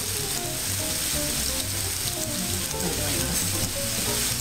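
Spicy steak seasoned with Mrs. Dash cooking on an electric grill, making a steady, dense sizzle and crackle that runs without a break, close and moderately loud.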